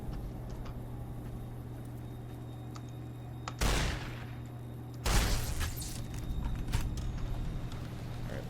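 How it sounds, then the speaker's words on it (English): Two sharp shotgun blasts in the Fallout New Vegas video game, about a second and a half apart, each with a loud crack and trailing rumble over a steady low game hum, followed by a few fainter pops. "I actually really like this shotgun."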